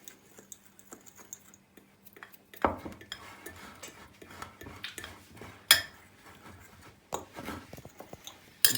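A spoon stirs dry cake ingredients with a pinch of salt in a bowl, giving close, irregular clinks and scrapes with a few sharper knocks.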